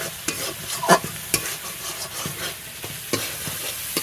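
Spice paste for pointed gourd and prawn curry sizzles in hot oil while a spoon scrapes and stirs the pan in irregular, close strokes.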